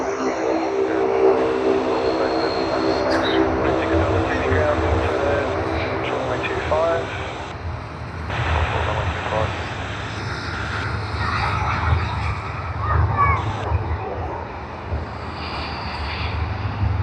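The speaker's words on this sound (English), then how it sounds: "Can you all hear those engine sounds?" Aircraft engines roaring at Sydney Airport, a steady loud broadband drone with low rumble persisting throughout, mixed with other background noise and occasional voices.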